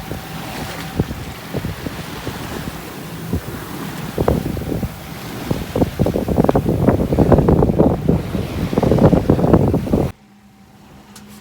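Wind buffets the microphone while a sailboat slices through waves on a solo day sail, loud gusty rushing and splashing building steadily before cutting to quieter hiss.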